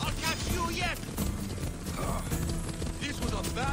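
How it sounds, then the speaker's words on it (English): Horses gallop in the Assassin's Creed Odyssey video game, a steady clip-clop of hooves running under dense game sound and music, with a voice talking throughout. "Of course, they also have horses, so it's kind of hard to outrun them."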